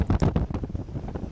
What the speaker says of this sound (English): The gusts are overpowering.